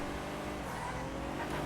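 An Annis Minimus car drifts in GTA Online, a steady engine roar and a sustained tire skid running close and loud through the whole short stretch, with no voices.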